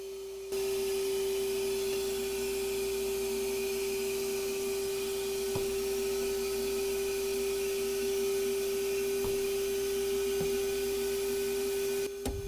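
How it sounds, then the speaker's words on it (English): A vacuum seeder used for seeding trays runs with a steady, loud electric whine and constant drone held for the whole stretch, broken by a few faint clicks and taps, with no voices. "Turn the vacuum on and I'm ready to begin seeding."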